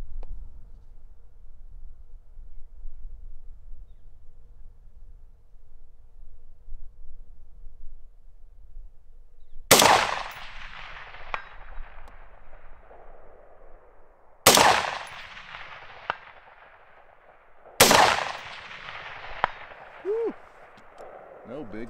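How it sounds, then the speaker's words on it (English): Three loud, sharp gunshots from neighbors firing guns at a rifle range ring out separately over quiet outdoor ambience, each with a long echoing tail. "That wasn't me. The neighbors are shooting."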